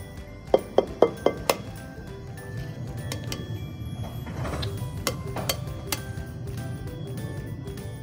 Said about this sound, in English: Now I'm gonna put in 2 eggs